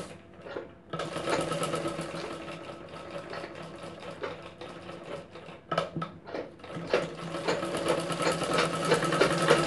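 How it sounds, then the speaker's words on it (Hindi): An electric sewing machine stitches the sides of a princess-cut cup blouse, a continuous fast mechanical whir that starts after a brief pause, stops momentarily midway and then resumes, close and steady. "इस तरीके से हम चारों साइड सिलाई लगा करके इसे टेक कर देंगे।"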